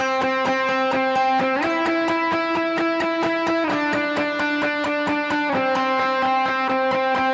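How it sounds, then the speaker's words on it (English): A distorted electric guitar plays a steady lead line of quick repeated notes, the pitch shifting in a few steps, loud and continuous. "I'm going to play the line on its own with just safe tones."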